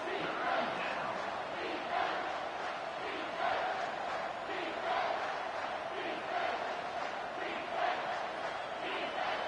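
Stadium crowd in the College Football 25 video game roars on third down to back the defense, a dense, sustained wall of cheering with rhythmic swells every second or so, distant and fairly quiet, no one talking over it.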